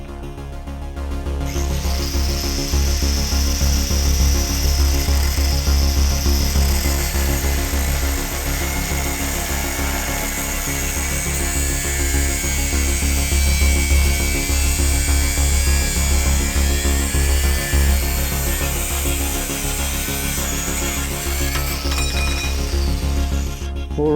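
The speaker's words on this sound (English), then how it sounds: "the idea is weld one side down somewhere along here where my mark is" A steady, crackling welding buzz runs for about twenty seconds without a break as a part is tack-welded in place on a Trident companion project, loud and close, with no talking.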